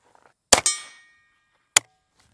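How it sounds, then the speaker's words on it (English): A semi-auto .22LR rifle loaded with .22 short cartridges fires two sharp, close cracks about a second apart; the first is followed by a metallic ringing clatter as it fades, and a faint click closes the sequence. "I'm gonna load up two 22 shorts and see what kind of results we get with that"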